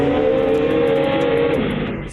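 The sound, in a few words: truck engine revving with tires spinning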